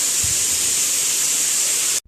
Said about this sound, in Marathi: शिट्टीचाही तुम्हाला आवाज येत असेल शिट्टी होते